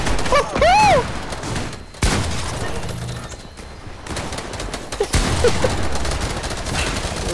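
Gunfire in Fortnite during Llama Rush gameplay. Bursts of rapid shots come through at moderate loudness alongside other game sounds, including a brief bird-like warbling chirp near the start.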